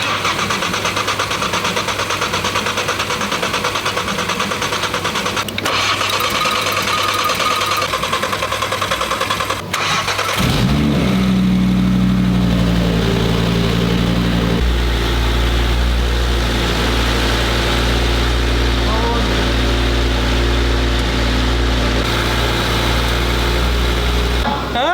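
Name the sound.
Audi RS3 8Y engine running during dyno power run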